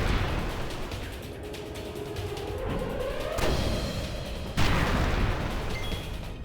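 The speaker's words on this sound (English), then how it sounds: "We're taking back-to-back attacks on Aaron from the artillery" Artillery attacks in the video game Final Fantasy X: a dense rumbling barrage with a rising whistle, then two sharp, loud impacts on a steady noisy bed.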